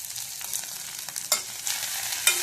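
Cowpea leaves with onion sizzle softly in a pan while being stirred, with quiet continuous frying and a few sharper scraping clicks of the spoon against the pan.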